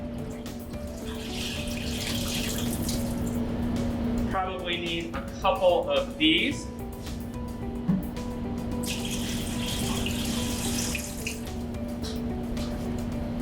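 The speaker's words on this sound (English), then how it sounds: "And so we are going to add our water in." Water runs and splashes into a container, as for a homemade lava lamp experiment, in a steady, close stream that pauses briefly while a person speaks, then resumes.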